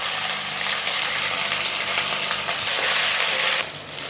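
Chopped onion sizzles loudly in hot oil in a pan for semiya upma, a steady close frying hiss with brief bursts of spatter and scraping. Nobody speaks.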